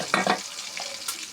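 Onions frying in a hot pan, with two quick stirring scrapes up close at the start, then a steady soft sizzle and one more brief clink.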